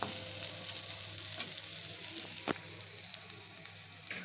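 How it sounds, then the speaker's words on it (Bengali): Mixed vegetables stir-frying in a pan with ground black pepper for chira pulao, a steady close sizzle with occasional light scrapes and taps of a spatula, no talking. "সব সবজিগুলোই আমার ভালোভাবে ভাজা হয়ে গেছে।"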